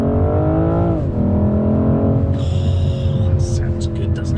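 BMW M440i xDrive engine revving hard under acceleration on an open road, a loud, steady rising drone heard from inside the cabin with some higher mechanical whine, no talking.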